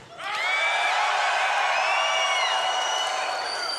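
Convention audience in the back row of a Capcom panel for Monster Hunter Wilds at PAX West 2024 cheering and whooping loudly, a dense sustained roar of many voices with high shouts rising over it for several seconds.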